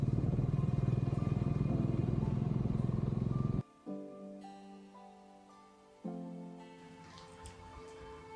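A motorbike on a mountain road in North Bengal, its engine droning loudly and steadily before dropping to a quieter, tonal hum with two short rev surges, close by and without talk.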